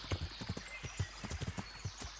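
A horse's hooves clip-clop in Kingdom Come: Deliverance, a steady run of light, evenly spaced hoof beats close by with no talking over them.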